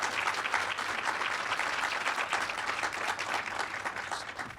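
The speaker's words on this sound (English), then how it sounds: "I don't know whether a lot of people are now applauding" A crowd applauds at a live Democracy Alive 2019 political event, a thick, even roar of many clapping hands that keeps going without a break for several seconds and stands alone, with no voices over it.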